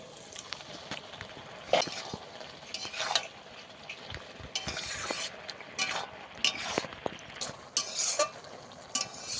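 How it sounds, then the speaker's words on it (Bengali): Rohu fish curry with pointed gourd stirred in a pan, a spoon scraping and clinking in irregular bursts over a faint simmering sizzle, close and moderately quiet with no talking. "আবারও ভালো করে নেড়েছে, আবারও ঢাকা লাগিয়ে দেবো।"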